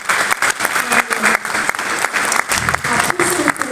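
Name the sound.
audience applause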